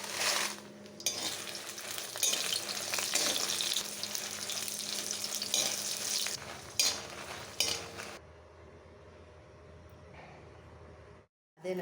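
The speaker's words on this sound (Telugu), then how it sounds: "ఎండుమిర్చిని వేయించాలి" Dried red chillies fry in hot oil for Andhra-style gongura pickle, with a loud, dense crackling sizzle and occasional stirring scrapes that drop to a softer simmer toward the end.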